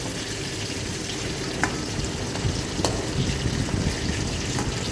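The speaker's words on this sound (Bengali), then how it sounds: "এবার ভেজে নিচ্ছি। আবার আমি সেকেন্ডবারের মাছটা যেহেতু বললাম আমি 2বার করে ভাজবো" Fish pieces frying in hot oil, on their second round in the pan, give a dense, even crackling sizzle with a few sharp spatters and light clinks throughout. Nobody speaks.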